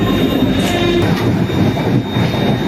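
Steady rumble and rattling of the Puri–Howrah Shatabdi Express running near Bhubaneswar, heard from inside a coach, with continuous wheel and carriage noise and a faint high whine, no talking.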